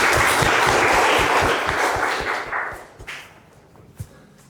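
A classroom audience applauds a student group, a dense burst of clapping that swells loud, thins out after a few seconds and ends with a few scattered claps.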